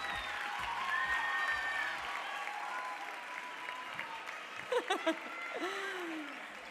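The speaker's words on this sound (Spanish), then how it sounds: "Les damos un fuerte aplauso" Audience applause at the Errenteria carnival presentation of comparsas, a steady crowd clapping under loud cheering and whistles, with a few sharp louder claps near the end.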